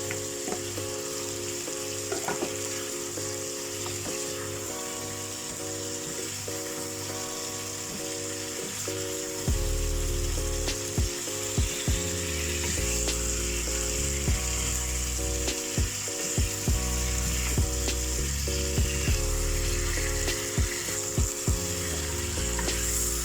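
Fried chicken added to a pan of curry for aloo chicken, a low sizzle that grows louder partway through, with clicks and scrapes of a spoon against the pan, close and continuous.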